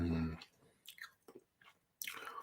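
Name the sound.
chewing cherries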